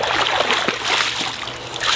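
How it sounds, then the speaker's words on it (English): Water is scooped with a net into a koi viewing bucket fitted with a wooden handle and sock net, giving close splashing and sloshing with a few sharper splatters throughout. "Get some of the water in here."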